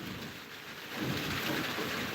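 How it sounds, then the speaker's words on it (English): Rain pours steadily with a low thunder rumble swelling beneath it, a dense hiss that grows louder toward the end, with no voices. "this where Janil requested me to show you rain."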